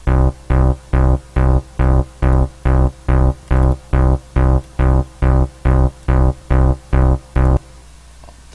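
Synth bass line from Refx Nexus in FL Studio, a steady run of about fourteen evenly spaced, punchy low notes with bright harmonics, loud and alone, stopping near the end.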